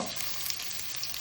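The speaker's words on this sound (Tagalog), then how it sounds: "sinito na yung sibuyas" Onions sauté in a pan for chicken tinola, giving a brief, even, close sizzle with a bright hiss and a few faint crackles.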